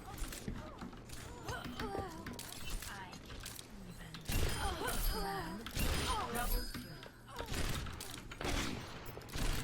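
Rapid gunfire and weapon sounds from the video game Overwatch, with sniper rifle play as Widowmaker, popping in bursts throughout amid game effects, with a voice talking over the action.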